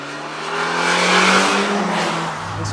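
A BMW M3 engine revs hard toward redline on a race track, a loud continuous car roar that swells and holds before easing slightly, with no voices.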